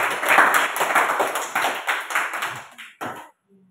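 Classroom applause from a group of students in a school lesson, a burst of brisk clapping that thins into a few scattered claps and stops.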